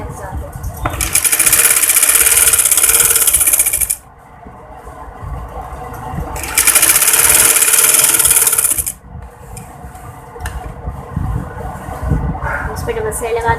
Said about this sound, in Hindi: इस पर डबल सिलाई लगा देंगे।